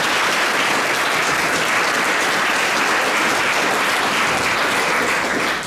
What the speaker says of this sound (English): why don't we give them all a round of applause?